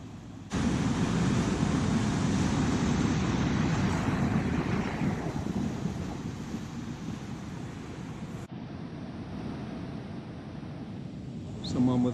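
Ocean surf rushes against the rocks at Lion Rock, Tasmania, a loud broad wash that swells at the start and eases, mixed with wind buffeting the microphone.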